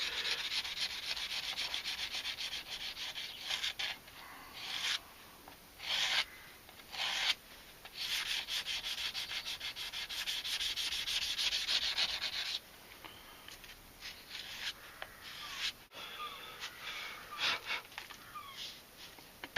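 A Mora scandi knife blade being sharpened on a Kingstone 1200 whetstone, close-up rhythmic gritty scraping strokes with brief pauses, quiet and alone.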